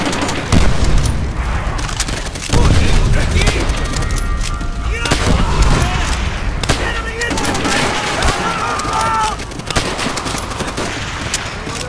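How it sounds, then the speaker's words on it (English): Call of Duty: World at War combat in the first mission, Semper Fi, with machine-gun fire shooting through a wall: dense, sustained bursts of gunfire and booming impacts run for the whole stretch, with shouted voices mixed in. "They shoot through the damn wall!"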